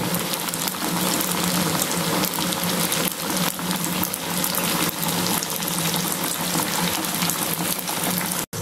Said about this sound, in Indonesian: Kita goreng beberapa potong ya teman-teman.